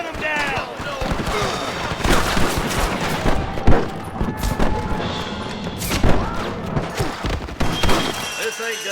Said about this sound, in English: Rustler guard! Gun them down!